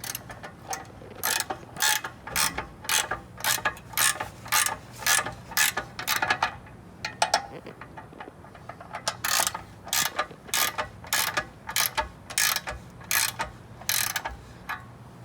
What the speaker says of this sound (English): I try and kind of tighten them evenly like you do with like lug nuts on a tire